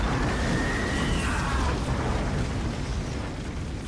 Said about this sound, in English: that was actually a good explosion